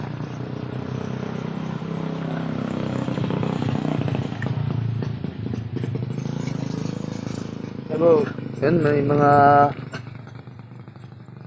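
Motorcycle engines pass along a roadside, rising to a louder, revving sweep near the end, while someone talks over the steady traffic rumble.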